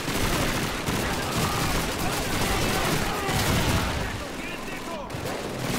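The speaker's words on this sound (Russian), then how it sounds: "Там пулемет, пулемет там." Machine gun fire from the Call of Duty 2 video game, a dense, continuous barrage of gunfire and battle noise running loud throughout, with voices under the shooting.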